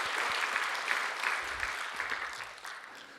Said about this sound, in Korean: 오늘 찬양대 박수 한번 하십시다.